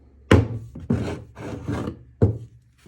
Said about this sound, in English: just sandpaper and elbow grease